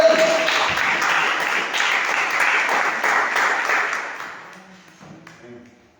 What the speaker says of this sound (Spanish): Denle un fuerte aplauso a esta iglesia